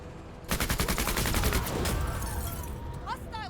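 Rapid chain gun bursts and cannon fire in the video game MENACE crackle in a fast, regular stream of sharp shots, then fade into a noisy rumble with faint electronic chirps near the end.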